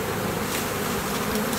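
Honey bees buzz thickly and loudly right around a person being stung, a dense, continuous swarm drone close by.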